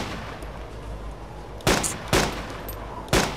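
Three gunshots in the survival game DayZ, sharp loud cracks spaced roughly half a second to a second apart over a steady low background hum, with no talking.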